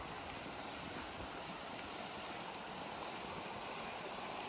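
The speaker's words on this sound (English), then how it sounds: "we're on a small river called Boernelven" A small river called Boernelven flows in remote wilderness, a steady broadband rush of moving water running continuously and fairly close, with no voices.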